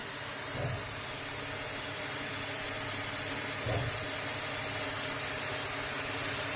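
Steady broadband hiss and hum from a PM-25MV milling machine peck drilling into metal without spot drilling, with two brief low thumps a few seconds apart.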